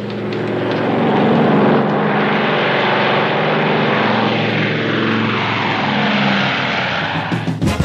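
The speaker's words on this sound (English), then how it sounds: "Tell that bomber to take off." A bomber aircraft taking off, its loud propeller engine roar filling the scene steadily and shifting in pitch as it passes, with no speech over it.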